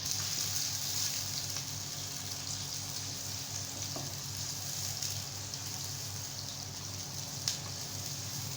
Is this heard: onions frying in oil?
yes